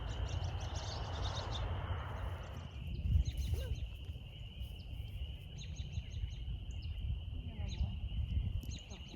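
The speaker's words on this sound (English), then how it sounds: "There's some birds." Birds chirp and call outdoors as scattered short tweets, some near and some farther off, over steady low outdoor rumble and a constant high insect-like drone.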